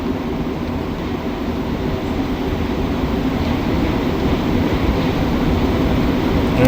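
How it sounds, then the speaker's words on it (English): A Montreal Metro MR73 train rumbles through a tunnel toward a station with a loud, steady roar that swells slightly as it approaches. "MR73 train is coming up here."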